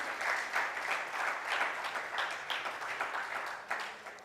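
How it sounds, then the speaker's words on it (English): Conference attendees applaud the close of a 5G digital infrastructure debate session, a full, even round of clapping from a seated hall, steady and moderately distant with occasional sharper claps rising above. "let's have a huge round of applause for this session."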